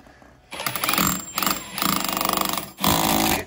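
A power drill bores into a house wall during installation of a ductless mini-split air conditioner, loud close whirring in several bursts with short pauses between.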